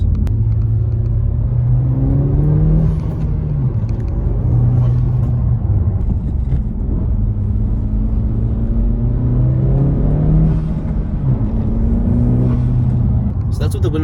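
A 2020 Honda Civic Si fitted with a PRL Cobra cold air intake accelerates through the gears from inside the cabin, a steady loud engine drone rising and falling in pitch with each shift, windows up.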